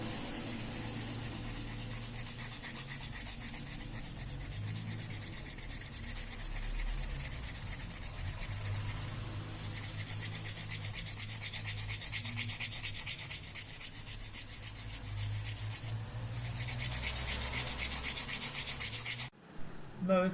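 Sandpaper rubs steadily over a circuit board to strip ink off the copper tracks, a continuous close scratchy hiss with only brief breaks and no voices.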